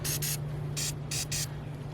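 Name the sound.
spraying bug remover on car bumper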